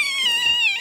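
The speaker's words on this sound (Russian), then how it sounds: "Если ты счастливый котик, скажи мяу" A cat gives one drawn-out, clear meow lasting under a second, close and loud, with a sustained tonal wail.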